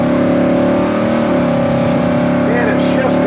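A 1969 Oldsmobile 442 engine hums steadily from inside the car as it drives, with the pitch shifting as it changes gears, loud and close, while someone talks over it.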